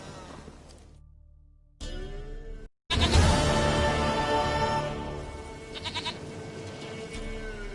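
Goat in a video game bleating in several short, wavering cries, fairly close, separated by brief silences over faint background ambience.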